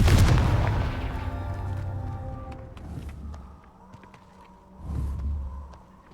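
A Confringo blasting spell in Hogwarts Legacy, going off as a loud, close boom with a ringing tail, followed by scattered smaller impacts and a second, softer rumbling blast near the end.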